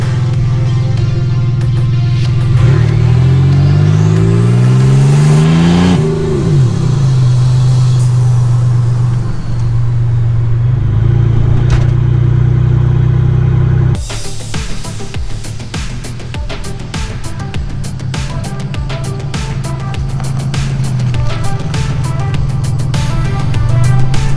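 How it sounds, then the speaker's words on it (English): A Nissan 300ZX running without an exhaust, accelerating at full throttle toward redline, its loud raw engine roar climbing in pitch, then cutting to a rougher, sustained drone heard from inside the car. "I didn't think that I would gun it full throttle all the way to red line"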